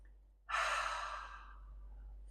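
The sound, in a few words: taking a deep breath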